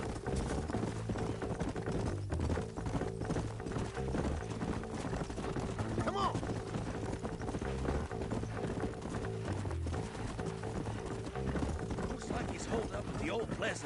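In the Red Dead Redemption video game, horse hooves clip-clop in a steady rhythm over a continuous mechanical background, with occasional faint whinnies.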